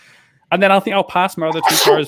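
A single sharp sneeze bursts out near the end of close, continuous conversation, briefly cutting across the talking voices.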